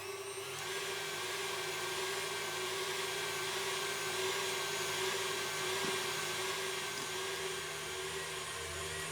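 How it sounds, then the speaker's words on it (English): An electric mixer whisks egg whites until frothy, giving a steady, loud, high-pitched mechanical whir that holds evenly throughout with no talking. "What I need to do is whisk these whites until they're sort of well and frothy,"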